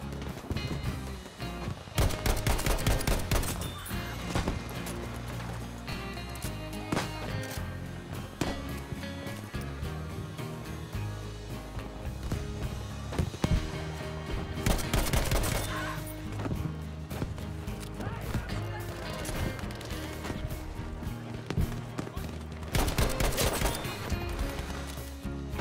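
Gunfire in Battlefield V crackles throughout a dense, loud battle mix, with repeated bursts and scattered shots over rumbling combat noise.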